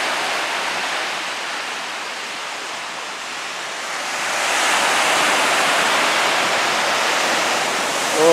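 Ocean surf at Beau Vallon beach in the Seychelles, a steady broadband wash of waves that swells louder midway and holds, continuous and fairly close, with no voices.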